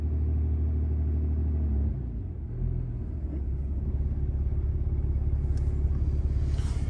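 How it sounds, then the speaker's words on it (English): A car engine idles steadily up close in drive during a transmission relearn, a low constant rumble that dips briefly in pitch before settling back into an even drone. "Y'all hear that? It revved up."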